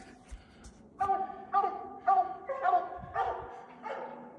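Leopard hounds bay at a raccoon treed in a den tree outdoors, sending up a string of loud, repeated barks and yelps about every half second, with a few soft voices faintly underneath.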